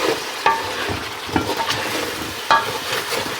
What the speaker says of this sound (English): So always deglaze your pans if you can.